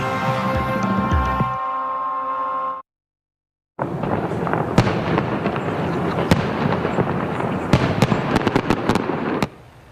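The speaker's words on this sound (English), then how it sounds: "Fireworks kicking off the new year in Calgary." New Year fireworks in Calgary crackle and pop densely after a brief silence, with sharp bangs scattered through a continuous fizzing roar; a musical tone precedes them.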